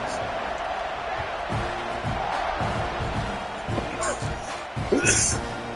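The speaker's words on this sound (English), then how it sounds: "They're set to kick it off, and this crowd now ready to get behind them." A college football stadium crowd roars before a kickoff, a dense sustained wall of cheering with some rhythmic thumps and a louder swell near the end, under a commentator's voice.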